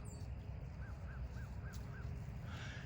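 Five short, evenly spaced bird calls ring out faintly in the distance over a low outdoor rumble.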